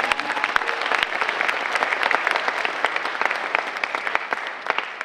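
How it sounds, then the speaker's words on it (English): Sustained audience applause at a Snow College convocation, dense and steady clapping from a large crowd that holds for about five seconds before thinning slightly at the end, with no talking. "Give him a round of applause."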